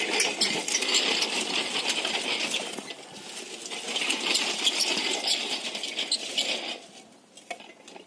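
A hand-pushed weed cutter with a cutting disc runs on a farm near Melur in Madurai district. It gives off a dense, continuous metallic rattle and clatter that dips briefly midway and thins out near the end.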